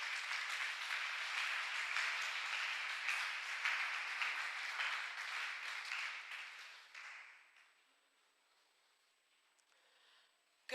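A church congregation applauds loudly and steadily for about seven seconds, then the clapping fades out to near silence, with a brief sharp knock at the very end.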